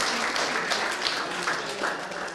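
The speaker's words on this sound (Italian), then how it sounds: "allora facciamo un applauso a Domenico" Studio audience clapping for the captain of an under-14 rugby team on an Abruzzo rugby show, a busy continuous burst of applause from a small crowd, near and fairly loud.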